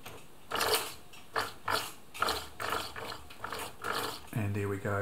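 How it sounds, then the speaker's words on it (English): A Singer 700 Series sewing machine winds thread onto its bobbin with a close, rhythmic mechanical clatter of repeated clicking bursts, then settles into a steady rising motor whir near the end. "we're starting to wind onto the bobbin there"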